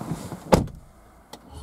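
The driver's door of a Mercedes GLC 220 d 4Matic shuts with a single loud thud, followed a moment later by a short, fainter click or mechanical clunk as the diesel car is started.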